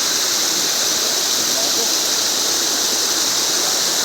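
Spring water runs in a small stream, a loud, close and unbroken rushing hiss that fills the whole stretch without pause.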